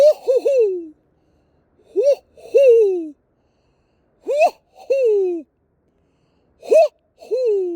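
A man imitates a hoot owl call at night at a pond, voicing close, loud paired hoots in four groups separated by silent pauses.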